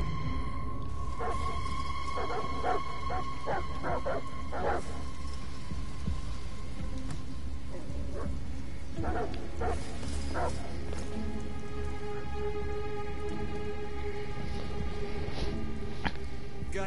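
Dogs barking in the video game Detroit: Become Human, a run of repeated sharp barks in the first few seconds and scattered ones later, set over a steady low ambient rumble with no talk.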